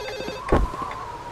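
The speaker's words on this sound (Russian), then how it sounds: "Телефон зазвонил." Telephone ringing inside the video game 1406, a single bright electronic ring burst, loud and close, with a faint thump partway through.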